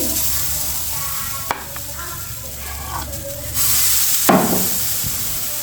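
Batter poured into a wok and frying on medium-low heat, giving a steady close hiss and sizzle with a few sharp utensil clicks and a scraping swell near the end, no talking.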